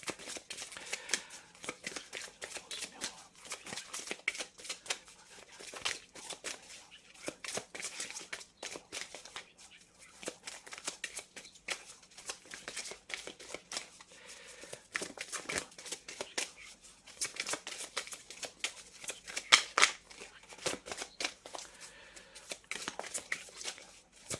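Tarot cards being shuffled and drawn by hand, with a steady run of papery riffles, slides and soft flicks, close and fairly quiet, going on throughout with no talking.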